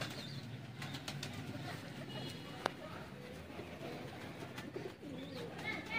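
Teddy pigeons coo on a rooftop, soft repeated calls over background noise, with people talking nearby.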